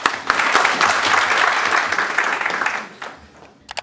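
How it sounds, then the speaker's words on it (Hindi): Dense crowd applause at a Bahujan media gathering rises quickly and holds strong before tapering off, leaving a few final claps at the end. "तालियां बजा दीजिए"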